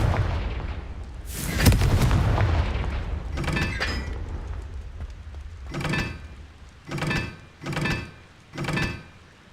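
Confringo blasting spell cast in Hogwarts Legacy, a heavy explosive boom followed by a series of rhythmic muffled thumping blasts, several distinct impacts spaced about a second apart.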